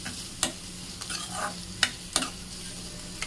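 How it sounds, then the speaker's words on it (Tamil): Onions and curry leaves sautéing in a pan for a Chettinad mutton gravy, a low steady sizzle broken by several sharp stirring scrapes and clinks at irregular intervals, close and fairly quiet with no talking. "இப்போ இதை நல்லா வதக்கிக்கோங்க."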